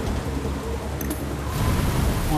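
Steady rain with a soft wash of storm noise, a brief crackle midway and the downpour swelling slightly toward the end.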